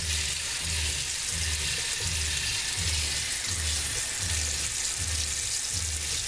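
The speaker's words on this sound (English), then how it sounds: "I've got hot and cold running water, and I mean, it's hot too." Hot water runs steadily from a tap in a classic truck workshop setting, a continuous rushing hiss with a faint repeating low pulse beneath it and no voices.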